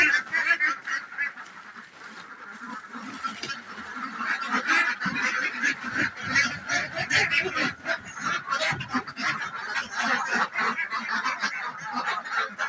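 A large flock of ducks at a wetland pond keeps up a dense, continuous chorus of overlapping honks and quacks, fairly close and busy from start to finish, with no talking.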